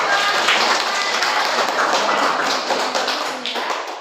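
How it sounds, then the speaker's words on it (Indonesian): Students in a classroom applaud a group after a math presentation, a steady, dense patter of many hands clapping at close range that tapers off slightly toward the end. "Dan tepuk tangan untuk kelompok."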